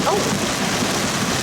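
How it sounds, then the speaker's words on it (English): Heavy rain pours in a steady, loud, broadband hiss that fills the whole short moment without a break. "the rain is getting heavy"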